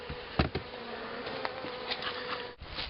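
Honey bees buzzing around a hive after a fight between colonies, a steady droning hum with a few brief louder passes close by.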